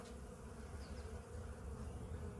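Honey bees hum steadily inside an open beehive during an oxalic acid drip treatment against Varroa mites, a close, dense buzzing drone with no voices.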